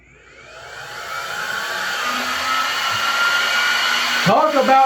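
BBR helmet blower powered by a small Milwaukee cordless tool battery spins up from quiet into a loud, steady whirring rush of air, close by, with a brief clatter near the end.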